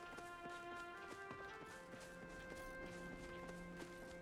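Steady rhythmic clip-clop of horse hooves in a video game, a brisk repeating walk over a backdrop of sustained musical tones, continuous for the whole stretch.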